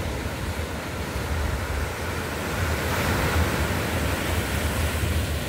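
Strong ocean waves roll and crash continuously onto Sumadag Beach in Maconacon, Isabela, a loud, close surf roar building slightly in intensity amid wind, with no voices.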